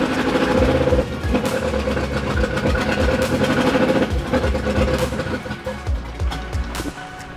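A wrecked car's engine runs roughly close by, rising and falling as it is revved a few times, with uneven knocking under the idle.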